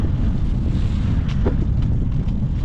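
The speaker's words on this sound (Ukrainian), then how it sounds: "Тут вітер такий серйозний." Strong wind buffets the microphone in a steady low roar, with a few faint higher gusts and rustles over the constant rumble.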